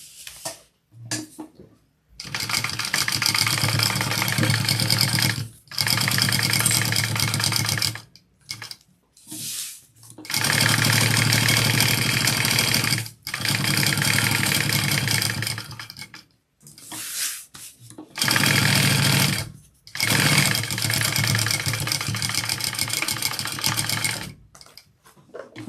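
A sewing machine runs basting stitches on an Etol convertible, whirring in several long loud bursts, each a few seconds long, with short quiet pauses between them.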